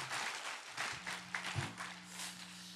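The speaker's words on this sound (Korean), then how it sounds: "한 번 더 힘찬 박수 부탁드립니다." Church congregation applauding during a Sunday worship service, a dense steady wash of clapping filling the room for a few seconds, with a low sustained organ or keyboard tone underneath.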